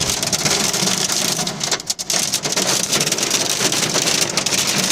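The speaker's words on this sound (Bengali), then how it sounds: "প্রচুর শিল পড়তেছে, শিল এই যে গ্লাসের মধ্যে দেখা যাইতেছে, শিল পড়তেছে।" Heavy hail and rain drumming on a stopped car during a hailstorm in Al Qassim, Saudi Arabia: a dense, loud, steady patter of impacts close around the cabin, with a brief dip in the middle.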